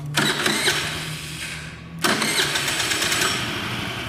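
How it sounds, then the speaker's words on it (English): Linhai 50 scooter engine being cranked on the electric starter, two loud grinding starter bursts close by, the first running about two seconds before a brief break, then cranking again without firing; no voices. "Pull your brake in and hit your starter. Just turn it over a couple times, let off."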